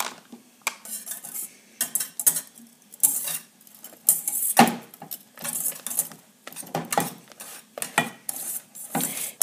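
A utensil works mascarpone around a bowl for a savory tiramisu with candied tomato, giving a run of close, irregular scraping and clinking strokes against the bowl with short pauses between, alone without voices.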